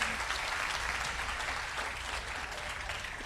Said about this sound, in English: you can give a round of applause to your winner